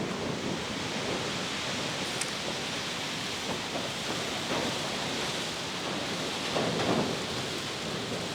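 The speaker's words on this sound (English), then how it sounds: "we're getting this crazy rain, sleet right now with a lot of wind" A steady, dense roar of rain and sleet driven by strong wind fills the air from a barn during a sudden storm, constant and broadband with no clear breaks.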